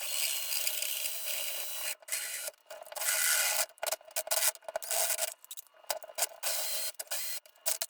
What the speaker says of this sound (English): I'm going to line up the pilot drill right here and slowly start drilling in